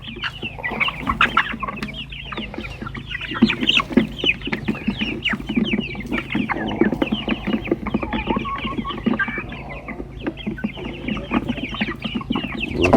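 A flock of about two-month-old chicks, hatched together in an incubator, cluck and chatter continuously at close range, with overlapping busy calls throughout.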